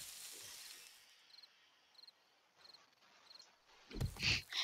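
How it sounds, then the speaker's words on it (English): Crickets chirping in the video game 7 Days To Die, short faint repeated chirps at regular intervals against a hushed background, cut off by a loud thump at the end. "See here that those crickets?"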